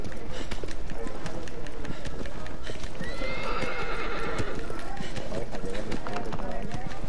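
A horse gallops in Shadow of the Colossus with rapid, rhythmic hoofbeats throughout and a whinny midway, while a player talks over the game sounds.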